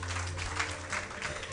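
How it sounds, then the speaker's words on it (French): An audience at a civil society and government forum claps for a speaker, a short burst of moderate applause that stays fairly quiet throughout. "On l'applaudit très fort"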